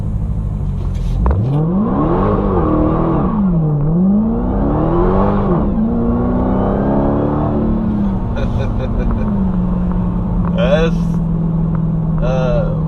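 A 2018 Dodge Challenger Hellcat's engine revs hard at full throttle with traction control off, pitch climbing and falling through several surges before settling into a steady high drone, with some squeals and clicks late on.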